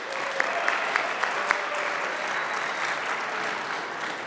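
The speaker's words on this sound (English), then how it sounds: "Let's give a quick round of applause to Austin Shivington." A chapel audience at Wabash College claps for Austin Shivington in a steady, sustained round of applause for a little over four seconds, with a few sharper individual claps standing out near the start.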